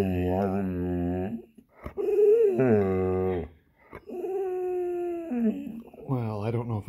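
An American Bulldog whines and howls in long drawn-out tones, several separate yowls with short breaks between them, loud and close with no talk over them.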